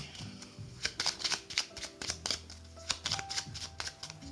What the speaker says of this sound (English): I really want to give this a good shuffle